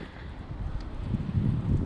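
Wind blows outdoors in Sedona, producing a steady, close rumble of wind buffeting the microphone that continues throughout with no one speaking.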